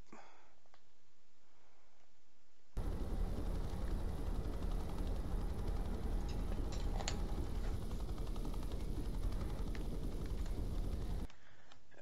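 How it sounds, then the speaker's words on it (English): A helicopter passes overhead in the ship-simulation game Ship Simulator Extremes, heard as a steady, dense rotor-and-engine roar that cuts in abruptly and holds evenly for about eight seconds before stopping. "There's a helicopter up there."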